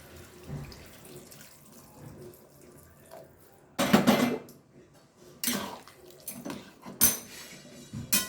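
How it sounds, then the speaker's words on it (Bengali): Hot water is poured into a pan of boiled potatoes and ridge gourd in a kitchen, with splashing bursts and metallic clinks of the pan and utensils after a quieter stretch. "এখন আমি জল দিয়ে দেবো, গরম জল দেব।"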